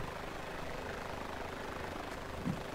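A helicopter in the video game Blackhawk Rescue Mission 5 drones with a steady, continuous engine and rotor rumble, moderately loud and unbroken, with no talking.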